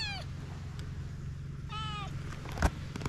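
A pet cat meows twice, short rising-falling calls close by, with a soft thud and low household rumble in the background.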